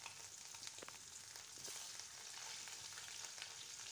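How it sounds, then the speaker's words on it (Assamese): Pieces of fish rubbed with turmeric and salt fry in a pan with a constant, close hiss of sizzling oil, with a few sharper crackles and pops and no voices. "এই মাছখিনি ভাজি লওঁ।"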